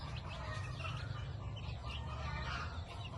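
Chicks of Texas gamefowl bloodline peep and cheep continuously in a brooding area, a dense overlapping chorus of high chirps over a low rumbling background.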